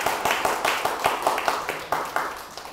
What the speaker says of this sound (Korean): 정답입니다. 박수 한번 쳐주세요.